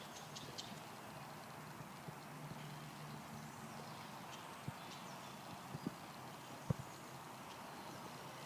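A horse walking over ground poles, soft faint hoof clops scattered irregularly over a quiet outdoor background, with one sharper knock near the end.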